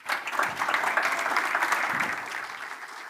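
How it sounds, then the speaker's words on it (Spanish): An indoor conference audience claps, a dense burst of applause that swells quickly and then slowly fades toward the end. "Un aplauso"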